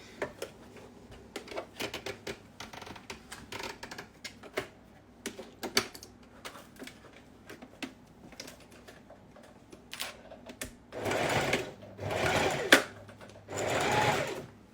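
A sewing machine stitches a fabric pencil case with straight and zigzag stitches, first as short stop-start bursts of needle clatter, then as three longer, louder runs, close by.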